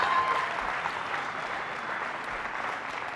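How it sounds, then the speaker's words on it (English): Steady applause from an audience at a college talk, a dense unbroken patter of many hands clapping at moderate volume for about three seconds with no voices over it. "Give yourself a round of applause."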